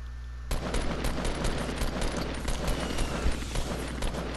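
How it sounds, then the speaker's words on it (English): Automatic gunfire in the battle royale game Fortnite breaks out after a brief quiet moment and continues as a rapid, dense burst of shots, loud and close, with no speech. "We're taking heavy fire!"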